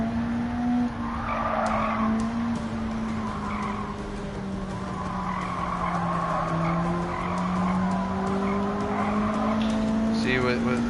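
Car in Gran Turismo 7 sliding through corners: a sustained engine hum under long squealing tire skids that rise and fade repeatedly, with a person talking over it.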